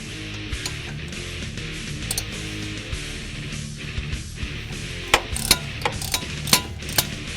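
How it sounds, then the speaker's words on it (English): A ratchet clicks as it removes a bolt holding the brake line bracket on a 2011-2014 Mustang, with faint scattered clicks at first, then a burst of sharper, louder ratcheting strokes near the end, close and without talk. "Now remove the bolt in the back here that holds the brake line to the bracket."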